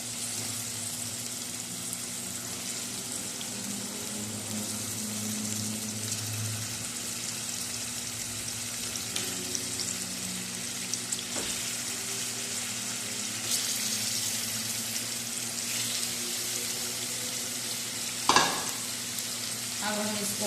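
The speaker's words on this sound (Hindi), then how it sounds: "अब हम इसको फ्राई करेंगे अच्छे से" Chicken pieces added to softened onions fry in a pan for a green chicken karahi, giving a steady broadband sizzle with occasional stirring clinks and one sharp knock near the end; no one speaks.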